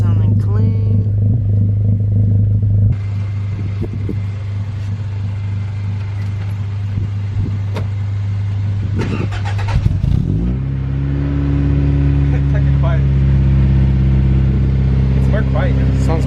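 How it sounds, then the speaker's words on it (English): A Honda Integra DB1 cold-starts with a new Greddy exhaust: it cranks and catches, idling loudly with a deep exhaust rumble before revving higher and settling into a steady, throaty idle. "We're gonna get a cold start going on this thing with the new Gretty exhaust"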